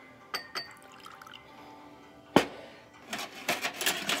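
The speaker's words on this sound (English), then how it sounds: "And then let's add a little water." A few faint drips and clinks, then water splashes and pours in short bursts into a bowl holding baby oil, close and quiet.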